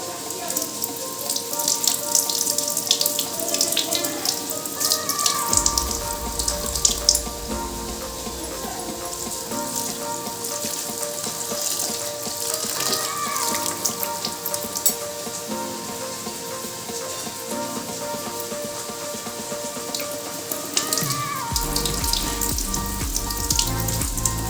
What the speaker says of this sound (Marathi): चांगली अशी चोळून धुवायची तिला, खूप घाण पाणी निघतं नाही त्याचं।